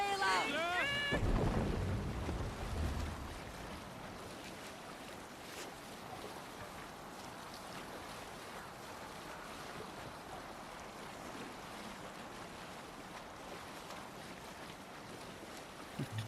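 A Viking longship sails over the sea in Assassin's Creed Valhalla, a steady soft wash of waves and wind after a short louder opening with a voice and musical tones.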